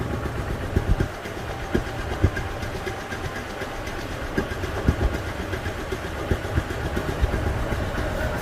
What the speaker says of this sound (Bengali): তো রানিং অবস্থায় গাড়িটির সাউন্ড শুনে বুঝতে পারতেছেন যে গাড়িটির ইঞ্জিন কোয়ালিটি কেমন